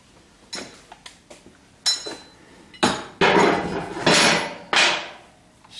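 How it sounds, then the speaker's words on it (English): Power ratchet on a long extension, used while removing the seats from a 1976 Corvette restomod, gives a few sharp metallic clanks and then several loud whirring bursts up close. "I have my shorter long extension on my power ratchet."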